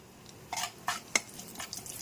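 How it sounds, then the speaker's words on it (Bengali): Dried chillies and cumin sizzle in hot oil in a wok: a few short crackling, spattering bursts with quiet gaps between them, close by and fairly soft. "এইবারে কড়াইতে তেল দিয়ে শুকনো লঙ্কা আর জিরে ফোড়ন দিলাম"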